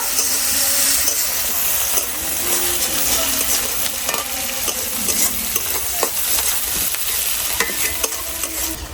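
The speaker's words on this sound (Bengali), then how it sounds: "এখন পেঁয়াজ আর রসুনটা ভালো করে ভাজা নিব।" Steady hissing sizzle of onion and garlic frying in hot oil, with occasional scrapes and clinks of a spoon stirring the pan, close up.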